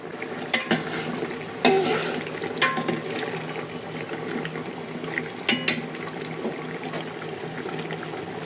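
Chicken roast with sugar added cooks in a pan with a steady, low sizzle, broken by several sharp utensil clinks and scrapes as it is stirred; no one speaks.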